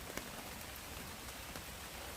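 Rain pouring steadily, a broad constant hiss with faint drop taps, even and unbroken with no voices.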